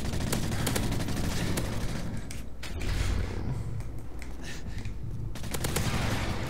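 Gunfire in a video game shooter, including a P90: rapid bursts of sharp shots crackle in quick clusters, with a brief lull in the middle before the shooting resumes.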